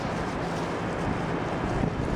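A Shark vacuum's brush bar spins, giving a steady, loud broadband whirring roar that holds even for the whole two seconds, with no voices.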